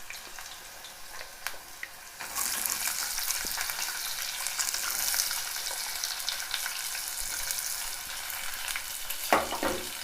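Onions frying in a pan for millet khichdi, a steady loud sizzle that jumps up after a couple of seconds as they hit the oil, with occasional stirring scrapes.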